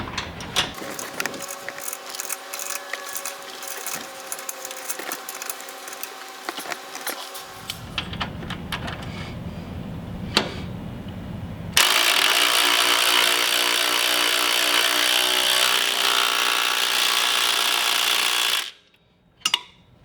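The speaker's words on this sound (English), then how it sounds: "Next, we'll torque that top shock mount to 60 foot-pounds." A torque wrench tightens the top shock mount bolt on a Jeep during a lift kit install, with a series of close ratcheting clicks, then a steadier louder mechanical whir before a brief stop near the end.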